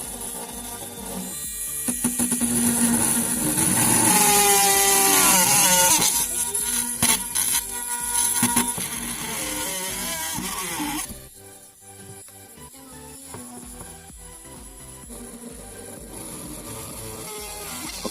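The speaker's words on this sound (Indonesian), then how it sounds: "Oke, ini saya gunakan bor tangan buatan sendiri ya." A homemade hand drill bores bolt holes through 1/2-inch PVC pipe, giving a loud, continuous buzzing whine with a varying pitch. After about eleven seconds it drops to a quieter, steadier hum.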